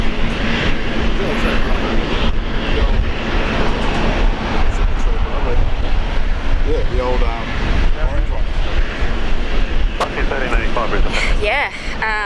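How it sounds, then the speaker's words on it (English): A 22-year-old Qantas Boeing 737-800 arriving from Melbourne at Brisbane International Airport in heavy rain, its engine rumble steady and fairly loud under ongoing talk. "we've got Qantas 604 from Melbourne, 737-800"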